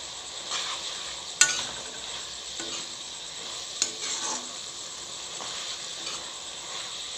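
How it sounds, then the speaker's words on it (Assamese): Taro (kochu) mixture stirred in a hot sizzling pan: a steady close sizzle runs throughout, broken by a few sharp scrapes and clacks of the spoon against the pan, with no talking. "এয়া মই আকৌ ভালদৰে লৰাই দিছোঁ।"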